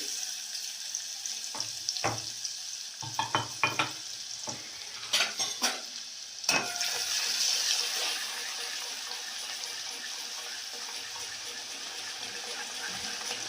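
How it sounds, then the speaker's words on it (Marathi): Spices hit hot oil for a tempering while cooking a mackerel curry, giving a run of sharp crackling sizzle bursts that fade into a soft, steady hiss. "आता आपण तडका मारूया। तेल गरम झालेलं आहे"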